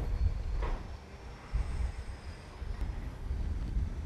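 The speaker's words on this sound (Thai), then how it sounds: "นี่นะครับสถานีรถไฟชุมทางแก่งคอยนะ" Ambience at Kaeng Khoi Junction railway station, a classic old station building in Thailand: a steady low rumble from trains on the tracks, with a faint squeal and a few clanks, no voices.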